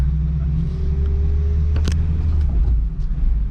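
Tornado Red MK2 Volkswagen Jetta driving, a steady low engine and road rumble heard from inside the cabin, with a brief sharp rattle partway through and no talk.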